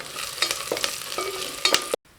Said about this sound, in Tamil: இப்போ வெங்காயம் ஓரளவுக்கு வதங்கி வந்துருச்சுங்க